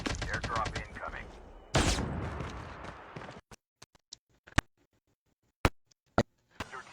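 Gunfire in a battle royale game: a dense rapid burst early on, then scattered sharp single shots spaced out over near silence, with a commentator talking at the start.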